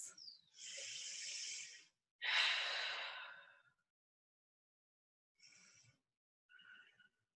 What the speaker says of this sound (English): Awesome guys, 2 deep breaths.